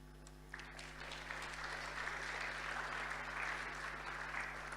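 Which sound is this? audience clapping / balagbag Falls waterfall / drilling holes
audience clapping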